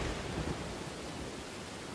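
A steady wash of heavy rain with a low thunder rumble from a storm in the Dawn of Man video game, constant and fairly loud throughout.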